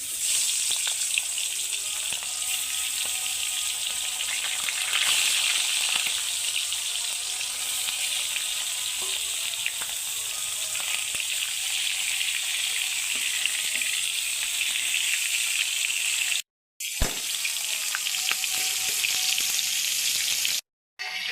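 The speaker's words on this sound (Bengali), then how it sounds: "মাছের মুড়োটা নুন হলুদ মাখিয়ে ভাজতে দিয়ে দেবো" Rohu fish heads rubbed with salt and turmeric fry in hot oil, a steady close hiss and crackle running nearly unbroken, with two brief dropouts near the end.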